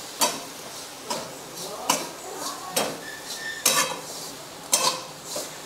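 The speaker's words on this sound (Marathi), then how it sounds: "त्यामध्ये मी हा गुळही टाकून घेते आणि अशा पद्धतीने मिक्स करून घेणार आहे." A spoon scrapes and clinks against a pan while jaggery is stirred into a roasted modak filling, giving a loose rhythm of bright metallic taps and scrapes roughly once a second, close and fairly quiet.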